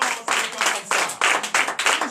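Rhythmic group hand clapping fills a night deliverance and prophecy church service in Comè, Benin. Loud, even beats repeat in a steady pulse, with brief breaks between bursts and no voices on top.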